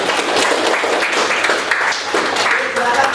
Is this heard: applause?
yes